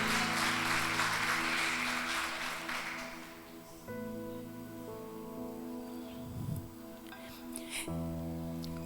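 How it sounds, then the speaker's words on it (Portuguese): A church congregation applauds during a worship service, with dense clapping for the first few seconds that fades as sustained music tones take over. "Aleluia, aplauda ao Senhor."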